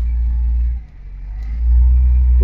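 A huge tractor drives along a road to the sea on a summer day, its loud, close engine rumbling low and heavy, dipping briefly before swelling back to a sustained deep drone.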